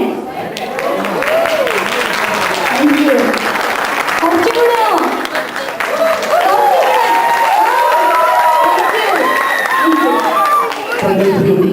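Audience at a Kerala Queen 2008 pageant event applauding and cheering steadily throughout, a dense crowd roar with voices rising above the clapping.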